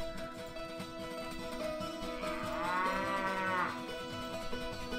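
A cow lows in the Diablo (1996) town, one drawn-out moo swelling in the middle of the clip over steady game ambience and music, fairly close and clear.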